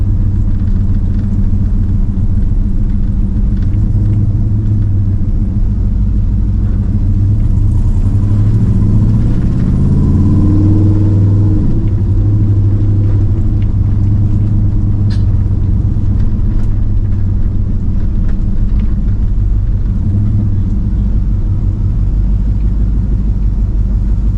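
A Chevy car cruises on an open road in the early morning, its engine giving a loud, steady low rumble that rises briefly in pitch as it accelerates mid-drive, with constant road and wind noise and no talking.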